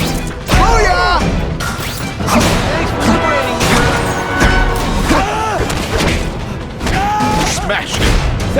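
Objects smash in The Amazing Spider-Man 2 video game, with repeated loud crashes and thwacks mixed with game voices and effects in a busy, continuous fight.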